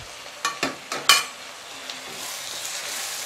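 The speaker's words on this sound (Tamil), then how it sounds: "இப்போ நல்லா தக்காளி வதக்கிடுங்கம்மா." Finely chopped tomatoes with a little salt frying in a pan for egg thokku, a quiet sizzle broken early by four or five sharp spoon-against-pan clinks, then a low steady frying hiss.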